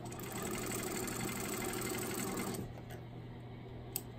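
A sewing machine stitches a scant quarter-inch seam while piecing square-in-a-square quilt blocks, running as a steady rapid whir for about two and a half seconds before stopping, leaving only quiet room sound and a small click.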